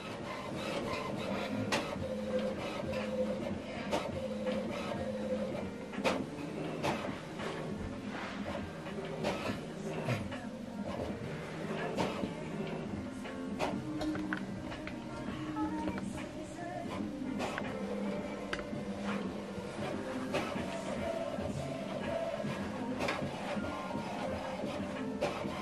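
An HP ENVY Photo 7134 inkjet printer calibrating: continuous mechanical whirring and rubbing with regular clicks and clunks as the print head shuttles back and forth, close and steady throughout, with no talking.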